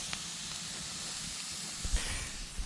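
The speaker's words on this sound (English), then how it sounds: "That steaming sound is from the water on the logs on top that are drying out right now." Wet logs piled on top of a riverside campfire hiss steadily as the water steams off, a continuous soft sizzle with a few low pops and crackles near the end.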